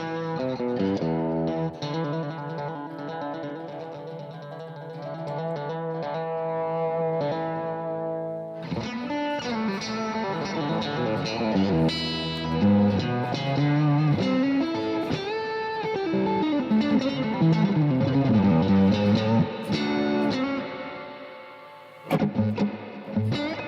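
Vintage electric guitar played through effects with reverb and some distortion, sustained chords giving way to busier picked phrases, loud and washing out into trailing echo, with no talk.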